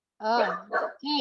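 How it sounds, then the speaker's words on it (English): Household dogs bark in short bursts, loud and close, mixed with a person briefly speaking. "sorry about my dogs. They always bark when I get on the phone."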